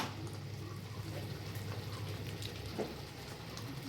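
Ghee poured over hot burning charcoal set in a bowl gives a soft, continuous sizzle and crackle, close and steady at low volume.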